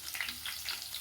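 Onions frying in hot oil with popped mustard seeds, cumin and peanuts for avalakki tempering, a steady close crackling sizzle that runs alone through the short moment.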